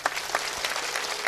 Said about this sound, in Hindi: जरा ताली बजाओ।